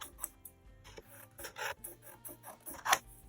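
Scissors cutting about an inch off material for a handmade rainstick, a series of close, quiet rasping snips and rubs at an uneven pace.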